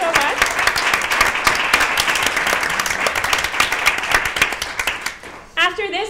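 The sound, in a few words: audience applause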